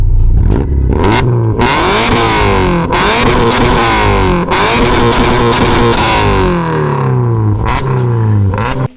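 A car engine breathing through an aftermarket intake revs hard and repeatedly, with loud close buzzy sweeps rising and falling in pitch in quick succession before cutting off at the end.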